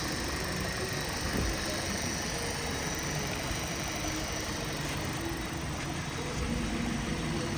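A 2017 Kia Optima's 2-litre engine with automatic gearbox idles steadily throughout, a continuous low rumble with faint vibration and no voices.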